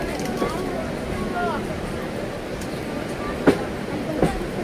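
A passenger train moving slowly through green countryside near Baidyabati in the rain, giving a steady low rumble with faint squeals and a couple of sharp clanks, heard from inside.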